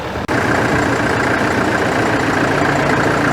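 A farm tractor's engine runs steadily close by, a continuous loud drone with no pauses and no talking.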